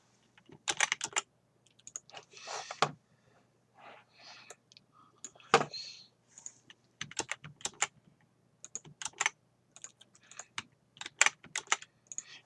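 Quiet, close computer keyboard typing in quick clustered bursts of clicks separated by short pauses, as keyboard shortcuts are entered during a virtual Lego Architecture London build.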